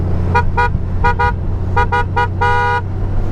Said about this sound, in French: Vous avez dessus un klaxon de bagnole, mais un truc de fou.